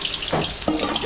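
Garlic and onion sauté in a hot pan with a brief, close sizzle that swells twice as the pieces are stirred.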